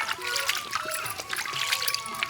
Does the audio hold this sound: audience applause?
no